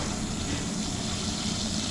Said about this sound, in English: I'm just going to fill him up with a little bit of water.